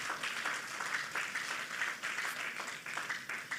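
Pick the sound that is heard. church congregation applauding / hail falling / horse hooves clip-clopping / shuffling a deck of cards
church congregation applauding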